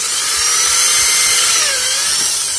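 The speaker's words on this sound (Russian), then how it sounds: "Сверлом насквозь делаем дырочки" A power drill whines steadily and loudly throughout, drilling holes through plywood, a continuous high-pitched grinding with no talking.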